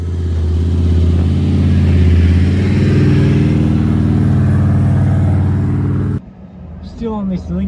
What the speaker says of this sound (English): Just first gear, low range, rear lockers are in, just crawl up it.